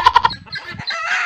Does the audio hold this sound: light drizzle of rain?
no